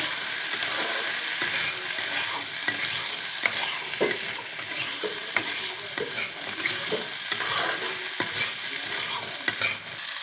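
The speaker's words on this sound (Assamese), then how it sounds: "আলুখিনি 5 মিনিটমান ভাজিব লাগিব।" Cut potatoes sizzle in a pan with chickpeas, and a spoon scrapes and stirs through them in an uneven rhythm over a steady frying hiss, with no voices.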